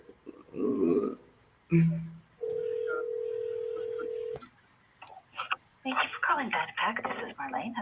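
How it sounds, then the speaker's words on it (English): A telephone number is dialed for a live sales cold call in an office: a short steady dial tone holds for a couple of seconds, ending in a click. Talk comes before and after it. "Let me call. Just dial."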